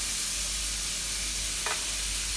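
Butter, garlic, salt and pepper in a preheated pan for lo mein, a loud, steady hiss and sizzle with one short scrape of stirring near the end.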